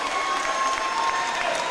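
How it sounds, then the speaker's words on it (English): A home crowd applauds at a basketball semifinal as a player fouls out, a loud, dense ovation of clapping with some cheering that holds steady throughout. "Getting a nice ovation here from the home crowd."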